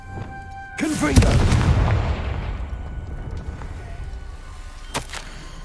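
Confringo fire spell blast in Hogwarts Legacy, a single loud booming explosion with a crackling burst that swells then decays over a few seconds, followed by a faint later pop.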